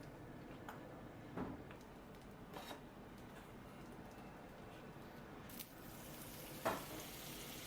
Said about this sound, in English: We do sauté.